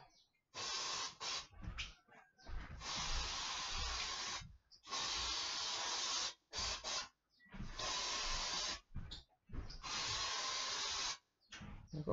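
Insect spray against mosquitoes hisses from an aerosol can indoors in a series of long, close, steady bursts separated by brief pauses.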